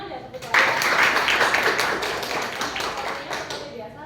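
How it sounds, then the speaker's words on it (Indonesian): Sustained classroom applause for a student in a law faculty lesson, a dense patter of many hands that starts abruptly, stays loud and steady for several seconds, then eases off slightly toward the end. "Tepuk tangan ya Ibu Tuari."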